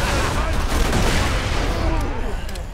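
Dense, loud rumbling explosions and rapid gunfire in the video game Borderlands 2 blend into a continuous roar of battle with no pauses.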